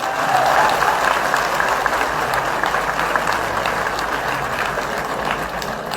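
Loud, sustained applause from a large crowd at a political rally in Gandhinagar, a dense, steady roar of clapping that holds for the whole stretch.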